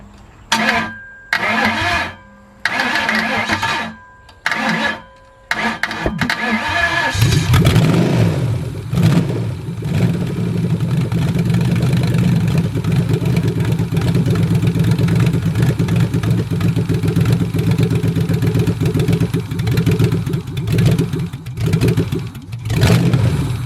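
A Ford Mustang with a swapped 4V V8 fires up after a few short cranking bursts, then settles into a loud, close, rumbling idle with occasional blips of revving.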